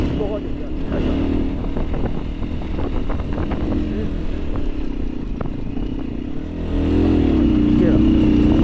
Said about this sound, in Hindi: इसी पतले रास्ते पर बाइक लेके जाते हैं